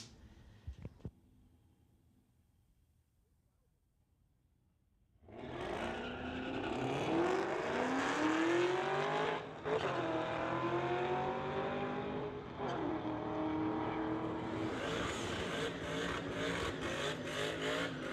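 A Chevy Camaro and a Ford Mustang drag race at Mission Raceway: after a quiet pause with a few clicks, loud engines roar to life and rise in pitch through hard acceleration, with gear changes and sustained racing noise.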